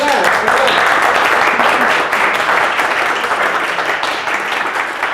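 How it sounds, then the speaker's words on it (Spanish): Lecture audience after a mathematics talk breaking into sustained applause, a dense, even wash of clapping holding steady for about five seconds, loud and close. "No un aplauso, sino muchos"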